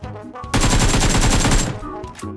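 A shotgun blast and rapid gunfire ring out in PUBG Mobile, a loud dense burst of overlapping shots lasting about a second, followed by quieter game sounds.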